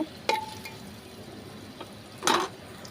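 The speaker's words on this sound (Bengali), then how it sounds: "তো আমি এখন মশলাটা ভালো করে কষায় নিব।" Spice paste with chilies frying in a pan as it is stirred, a low steady sizzle broken by a few short scraping stirs, one early and a louder one near the end.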